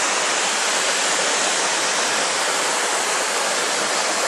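A waterfall rushes loudly and steadily, a dense, even roar of falling water close by with no pauses and no other sounds.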